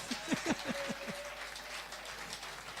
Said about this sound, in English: let's give a sound round of applause for ABU in Unijos